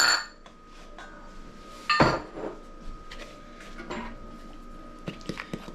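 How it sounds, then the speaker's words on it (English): Flour, baking powder, baking soda and salt being whisked together in a bowl for a pumpkin peanut butter dog cake: close clinks and taps of metal against the bowl, with one sharp knock and quieter scraping strokes. "And we're just going to whisk that all together."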